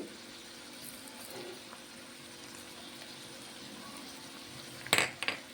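A spoon stirs mutton and fenugreek leaf curry in a pot, with faint soft scraping and gentle cooking sounds that end in a few sharp clinks of metal on the pot rim.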